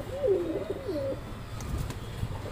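A wild pigeon coos nearby in a soft, rolling series for about a second, followed by quieter outdoor background.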